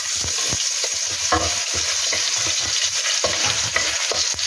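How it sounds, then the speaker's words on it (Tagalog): Potatoes fry in a hot kawali, a constant close sizzle with frequent clacking stirs and scrapes of a utensil against the pan. "kapag po mainit ng ating kawali is ipiprito po muna natin ang ating patatas"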